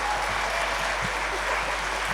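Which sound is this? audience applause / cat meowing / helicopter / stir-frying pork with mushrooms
audience applause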